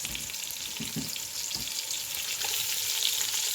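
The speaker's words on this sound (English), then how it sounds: "we're going to go ahead and start adding our salmon fillets in there. Not salmon, but cod" Cod fillets, a flaky fish, fry in a hot pan with a steady, dense sizzle throughout, broken by a few soft knocks near the start, and no voices.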